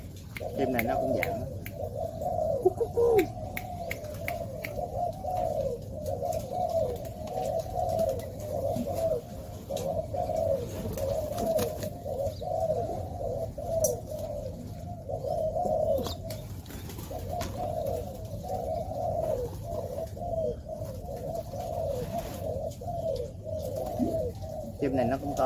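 Pigeons coo steadily throughout in low, rolling calls, a continuous murmuring chorus with occasional wing flaps and faint chirps.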